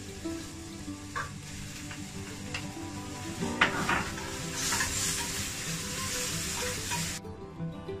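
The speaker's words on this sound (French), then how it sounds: "Ajoutez la viande hachée et cuire une dizaine de minutes." Minced meat cooking in a pan over the heat, a continuous close sizzle with utensil scrapes and clinks against the pan, the frying swelling louder midway before cutting off near the end.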